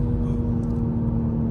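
A Toyota Supra on the move gives a steady low engine drone with a constant hum and faint road noise, close and loud throughout with no voices.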